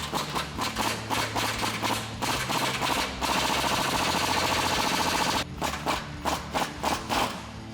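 Impact wrench with a 15/16 deep socket and swivel hammering a Toyota Tundra front suspension bolt during a leveling kit install, loud rapid rattling bursts broken by a few short pauses, close up.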